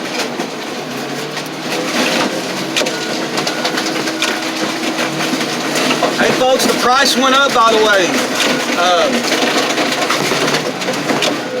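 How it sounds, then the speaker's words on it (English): A 1996 Chevy extended cab truck is crushed outdoors in rain, with heavy mechanical rumbling and creaking metal under a voice as he talks over the steady machine noise. "get this Chevy truck crushed"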